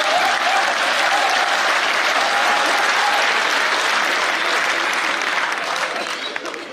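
Audience at a Hindi kavi sammelan poetry recital breaks into loud, sustained applause, a dense wash of many hands clapping that holds steady for several seconds before starting to fade.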